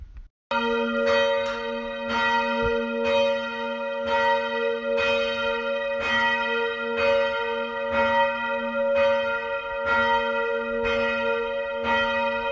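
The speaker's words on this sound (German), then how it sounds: "Und so klingt das Mittagsläuten von St." Church bells of St. Michael in Hausen ring the noon peal, several bells striking in a steady, overlapping rhythm with long ringing tones, loud and continuous throughout.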